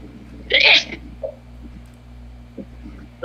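A single sharp, loud sneeze bursts out close to the microphone during an Infinite Galaxy strategy game session, followed by faint background noises and a soft low hum.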